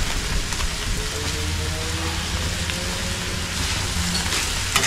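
Food sizzles and fries steadily in a pan for a home-cooked Filipino dinner dish while it is stirred, a continuous loud crackling hiss with faint scraping underneath and no talking.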